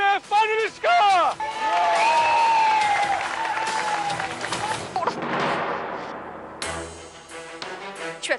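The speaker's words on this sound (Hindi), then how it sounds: "तो जोरदार तालियों के साथ स्वागत कीजिए हमारे पहले फाइनलिस्ट का" An audience bursts into applause and cheering for the first finalist of a stage dance competition. The applause follows a short musical flourish and mixes with other loud stage sounds before fading.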